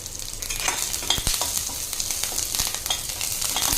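Sliced onion, slit green chili and a sprig of curry leaves sizzle and fry in a hot pan, with a few sharp scrapes of a spoon stirring them; loud and close, no talking.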